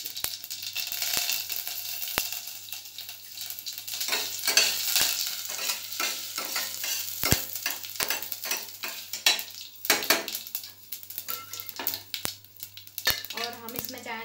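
Curry leaves hit hot oil with mustard seeds and asafoetida, a steady crackling sizzle punctuated by spoon stirring and occasional clinks against the pot, alongside a low constant hum.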